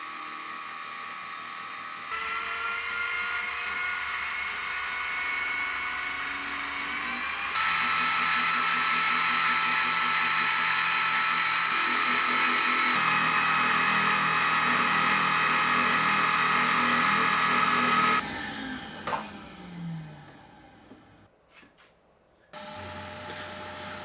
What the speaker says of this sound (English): we're going to head over to the mill and cut a pocket in this to straddle the main spine